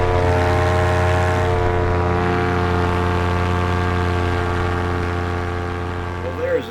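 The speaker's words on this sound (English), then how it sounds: "Takeoff." A small propeller airplane takes off with a loud, steady engine drone and whirring prop that holds close and constant, then eases slightly at the end.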